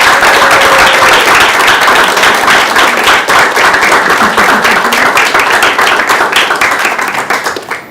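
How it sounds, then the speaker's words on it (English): Loud, dense round of applause from a symposium audience honoring students, sustained clapping throughout before tapering at the end. "I want everybody to give our students a round of applause"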